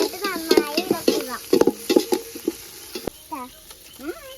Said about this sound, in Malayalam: എന്നിട്ട് നന്നായി ഇളക്കുക.